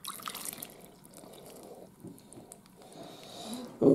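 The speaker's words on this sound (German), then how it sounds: "Rest vom Wasser, das war einfach kaltes Wasser." Cold water is poured into a bowl of pizza dough ingredients that already hold dissolved yeast and oil, giving a soft, close trickle and some drips with no talk, ending in a brief louder splash.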